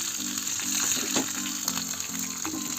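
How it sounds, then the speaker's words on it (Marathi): Cumin and mustard seeds are tempered in hot oil for dhokla, giving a continuous close sizzle with scattered small pops and crackles and a faint stirring sound beneath. "त्यात मी सर्वप्रथम जिरं मोहरी टाकली, तडतड द्यायची"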